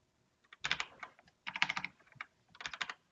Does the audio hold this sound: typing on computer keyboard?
yes